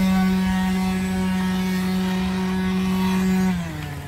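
A model MAS 562 torpedo boat's electric motor, copper-coil water cooled, whines at a steady high pitch at full speed on a pond, loud and close, then drops in pitch as it winds down near the end.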